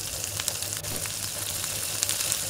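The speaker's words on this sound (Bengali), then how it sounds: "এবার ছোট পেঁয়াজগুলোকে ভালোভাবে ব্রাউনিশ কালার করে আমাকে ফ্রাই করে নিতে হবে" Small baby onions frying in hot oil, a steady close hiss of light shallow frying that runs the whole time with a few faint clicks and stirring taps over it.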